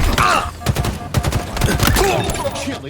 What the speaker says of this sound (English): the battle rifle in Infinite is almost identical to Halo 3's battle rifle in terms of damage and time to kill